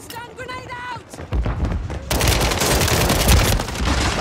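A stun grenade detonates in a video game firefight, a sudden loud broadband blast that sustains into dense, crackling noise, following a few seconds of quieter game sounds with harmonic tones.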